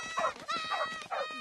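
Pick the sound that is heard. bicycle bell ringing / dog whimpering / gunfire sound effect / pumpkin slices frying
dog whimpering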